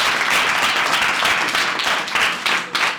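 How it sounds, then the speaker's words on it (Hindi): A room of people at a personal development class applauds a student named Ajit, dense loud clapping sustained for a few seconds with slight swells and dips. "अजीत के लिए जोरदार तालियां बनती है कि नहीं?"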